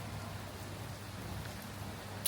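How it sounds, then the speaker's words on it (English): Heavy rain pours steadily at a Jamaican resort after a night of storms, a dense even wash of falling water with no voices, holding at a constant level throughout. "And it is pouring raining."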